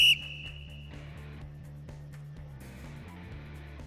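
A coach blows a sharp, high whistle once, a short loud blast at the start, followed by a steady game-music background with a sustained high tone over it.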